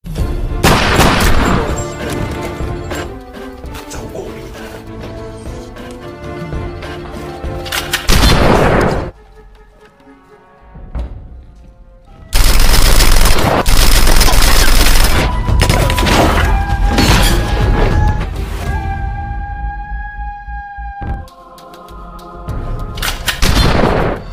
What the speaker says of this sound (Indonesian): terjadilah baku tembak di tempat tersebut